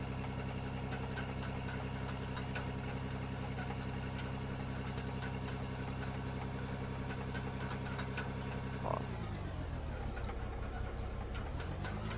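Excavator engine revving in the Out of Ore video game, a steady droning hum held constant, then pitch shifting after a brief click near the end.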